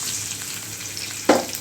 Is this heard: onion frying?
yes